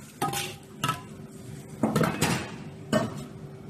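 Tomato and chili are stir-fried in a pan with four or five distinct clanks and scrapes of a metal utensil against the pan over a faint background sizzle.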